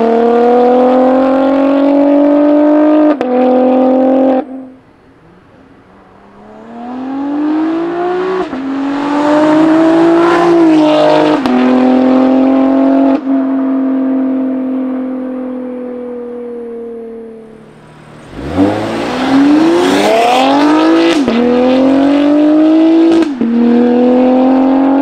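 BMW X3M Competition fitted with an Active Autowerke equal-length mid-pipe exhaust, revving hard in a series of loud rising and falling blips and sustained pulls, close by with no talk.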